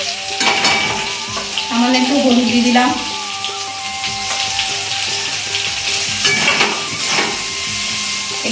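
Khoira fish sizzling and frying in hot oil in a home kitchen, with steady crackle and occasional stirring clatter throughout while someone talks over it.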